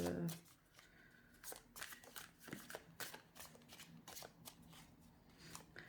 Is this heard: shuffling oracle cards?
yes